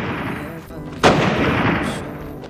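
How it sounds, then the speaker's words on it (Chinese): One sharp gunshot cracks out at close range in a Chinese crime film as a robber fires at people blocking his escape, a single loud report over a muffled background. "一路走一路开枪射击阻拦人员"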